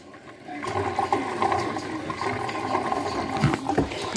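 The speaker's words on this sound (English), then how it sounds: "Filling it with water." Water running steadily into a small watering can during garden work, a continuous hollow splashing rush that rises slightly as the can fills, close and fairly loud throughout.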